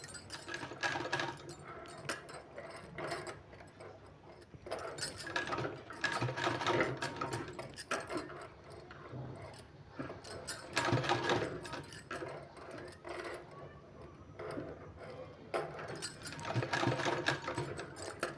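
A sewing machine stitching along the edge of a sleeve, quiet rapid mechanical whirring in repeated bursts with short pauses between runs, close and alone.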